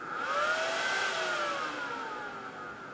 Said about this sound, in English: This is kind of annoying fan sound.